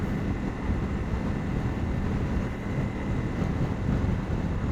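Loud, steady Honda CRF250L motorcycle engine roar that holds broadband and constant for several seconds, heavy low rumble and no voices on top.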